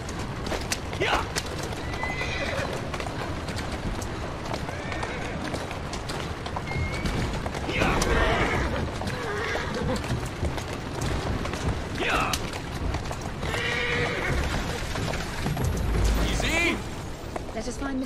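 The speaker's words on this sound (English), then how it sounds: "Who's a good horse? You are." A horse in the Assassin's Creed Syndicate video game whinnies several times over a steady clatter of hooves on the move, with low rumbling background noise throughout.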